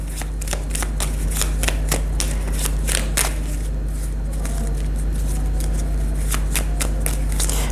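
Playing cards shuffled by hand for a French tarot-style card reading, a run of crisp riffling bursts repeating steadily, close and fairly loud over a low steady hum.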